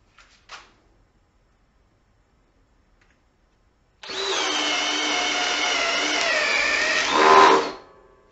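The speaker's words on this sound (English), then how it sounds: "the Ridgid drill driver, also with a fully charged battery" After a brief silence with a tiny click, a Ridgid subcompact cordless drill driver with a fully charged battery whirs steadily for about three and a half seconds, revving slightly higher before stopping.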